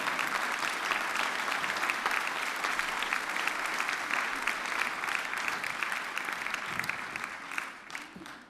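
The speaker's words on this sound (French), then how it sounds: "On les applaudit bien fort" An audience at a harmony band's show applauds new members stepping onto the stage, a long, even burst of many hands clapping that thins and fades toward the end.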